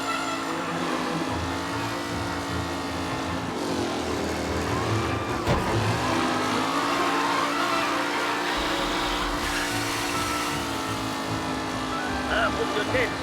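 Race cars in the Mafia video game roar past in a tight pack, engines whining and revving with a swell around the middle, while a commentator talks over them.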